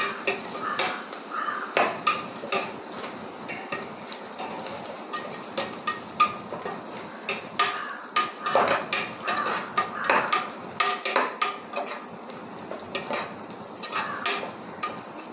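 Coriander is sautéed in a pan for chicken biryani, with a spatula scraping and clinking against the metal in quick, uneven strokes, close and fairly loud, with no talk.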